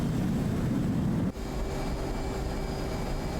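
An F/A-18 Hornet's jet engines roar at full military power in the DCS flight sim, a dense, steady rushing drone. The tone shifts abruptly partway through and then holds steady.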